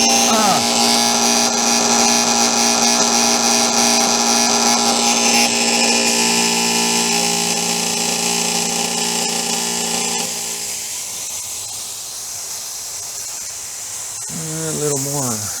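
A power tool makes a test cut on the control arm of a 1972-93 Dodge D100 pickup, giving a loud, steady grinding whine for about ten seconds before easing off. A voice is heard briefly at the end.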